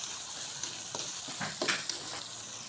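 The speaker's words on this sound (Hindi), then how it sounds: "भूनने के बाद ये जो मेथी है ना, हम ये ऐड करेंगे इसके अंदर। इसको 5 मिनट भून के फिर" Fenugreek (methi) leaves frying in a spiced masala in a pan, a steady close sizzle with a few louder stirring scrapes and crackles midway, no voices.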